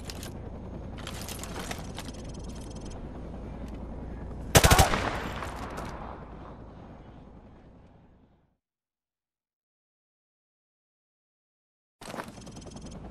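Rapid automatic gunfire rattles on a firing range in Call of Duty Modern Warfare, loud bursts building to a sharp blast, fading into a long silence before firing resumes abruptly.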